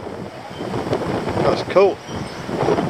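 Wind gusts across a swaying swing bridge in Swaledale, making a continuous rushing buffet over the microphone, while people talk briefly nearby.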